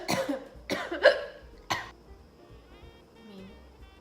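A person nearby coughs three or four times in sharp separate bursts, followed by a quieter stretch with faint background sounds.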